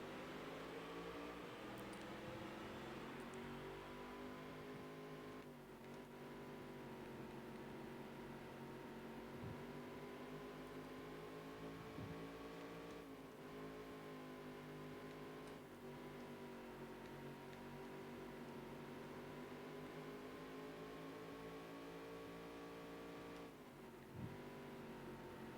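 Race car engines from the NASCAR Dirt to Daytona video game on the Nintendo GameCube, a continuous droning pack of engines with steady held tones and brief pitch dips, loud and unbroken for the whole stretch.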